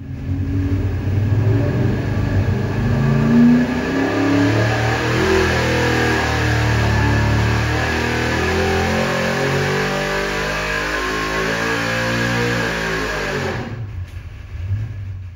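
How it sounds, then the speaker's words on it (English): Engine fitted with a Holley 750 carburetor revs hard on a dyno, a loud sustained roar climbing steadily in pitch for about fourteen seconds before cutting off abruptly. "And here's the dyno pull."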